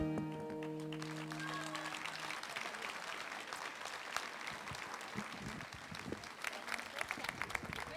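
An audience in a hall at Saint-Vincent breaks into sustained applause after a sung performance, a dense steady patter of many hands lasting throughout, with fading musical tones at the very start.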